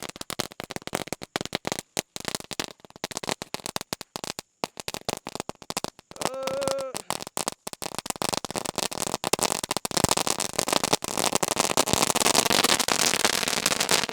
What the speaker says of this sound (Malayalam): ഇത് പൊട്ടുന്ന കമ്പിത്തിരിയാണ് പൊട്ടുന്ന കമ്പിത്തിരി